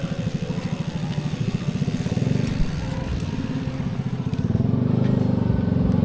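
A motorcycle engine runs steadily on a forest trail, its rhythmic low putter loud and close throughout, rising slightly in intensity near the end.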